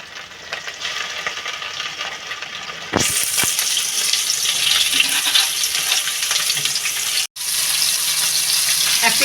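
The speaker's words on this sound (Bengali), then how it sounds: "তেল গরম হয়ে গেছে, মাছগুলো ছেড়ে দিলাম।" Salt- and turmeric-rubbed snakehead fish pieces drop into hot oil, and after a few quiet seconds a sudden loud, dense sizzle bursts out and carries on steadily up close.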